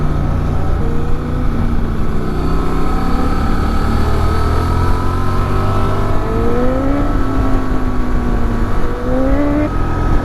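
A 2023 Honda Transalp XL750 motorcycle engine runs steadily while riding along, a loud continuous drone with rising and falling pitch as the revs change through gears, mixed with wind rush and no talking.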